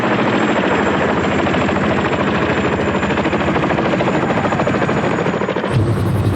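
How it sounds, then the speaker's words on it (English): Boeing Vertol Chinook tandem-rotor medium-lift helicopter, its loud, steady rapid blade chop filling the whole stretch close by, with a brief shift in the rumble near the end. "the Boeing Vertol Chinook, the Western world's standard medium-lift helicopter for almost 30 years"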